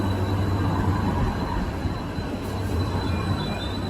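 A tram in a Roblox game set in Croydon rolls past with a loud, steady rumble and rail noise, a continuous close drone holding throughout with a faint high whine above it.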